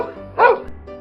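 A single dog bark, a short sharp burst standing out close and loud over a low background murmur, from a pet dog out on a walk with its owner on a residential street.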